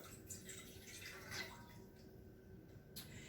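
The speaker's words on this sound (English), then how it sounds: "So I'm going to pour that in there, 2 cups of water." Two cups of water trickle and splash into a soup pot, with a few brighter drips and splashy bursts standing out against a steady liquid hiss.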